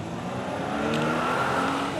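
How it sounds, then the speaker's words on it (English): A pull-back toy car rolls down an inclined ramp with a continuous whirring hum that rises and grows slightly louder toward the end. "We're going to pull the car back and release it."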